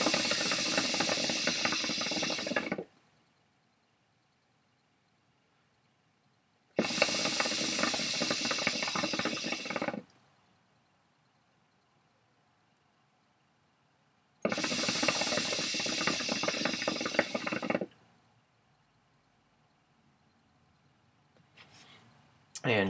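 A KM Beast hookah loaded with Tangiers Lucid Maraschino Cherry being drawn on in three long pulls, each a few seconds of loud, close, airy hissing and bubbling, separated by near silence.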